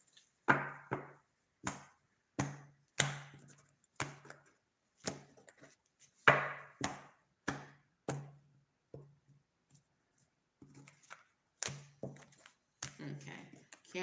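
Tarot cards being shuffled by hand, heard as a quiet, close series of sharp taps and papery bursts repeating at a fairly steady pace, with a short pause near the middle.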